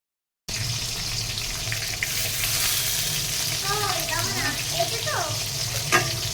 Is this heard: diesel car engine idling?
no